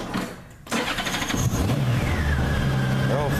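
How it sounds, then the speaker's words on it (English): A silver 2005 Honda Gold Wing motorcycle with 57,673 miles cranks and fires up close by, then settles into a steady, smooth idle with a low engine hum. "We'll go ahead and start this up."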